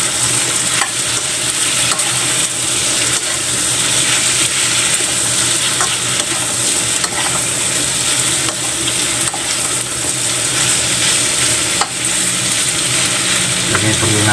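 Vegetables, including pechay, being stirred in a hot pan: a loud, continuous sizzle of frying with faint scraping and clinks of the utensil throughout.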